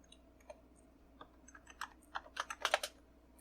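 Keys on an 1980s home computer keyboard are tapped to enter a command, faint sparse clicks at first that quicken into a brisk cluster of louder keystrokes near the end.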